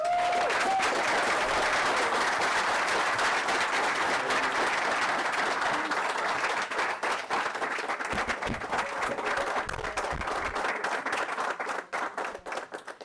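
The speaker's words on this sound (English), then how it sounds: "May I get another round of applause for those young people, please?" An audience at a final event breaks into sustained, loud clapping and applause after speeches by young people, staying dense for most of the stretch before thinning out near the end.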